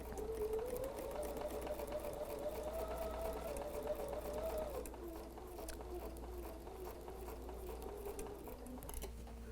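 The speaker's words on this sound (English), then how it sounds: "So let's go ahead and sew that together." A sewing machine stitches quilt pieces together with a steady, continuous mechanical whir and fine tapping that runs the whole time, close and fairly loud, with a short backstitch, and nobody talks.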